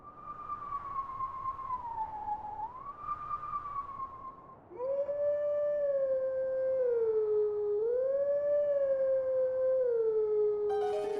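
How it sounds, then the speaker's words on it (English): A wolf howl in the video game Zelda Twilight Princess: a long, wavering, siren-like tone that rises and falls, then shifts into a stronger, fuller second howl with layered harmonies, clear and prominent. "Watch me be terrible at howling."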